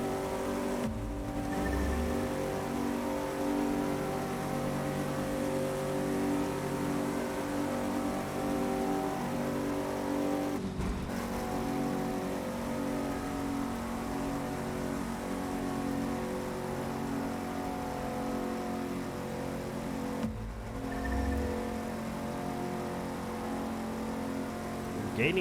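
Steady engine drone of a car cruising in The Crew 2, a continuous mid-pitched hum held at even loudness, with a few brief shifts or dips in tone as it drives on.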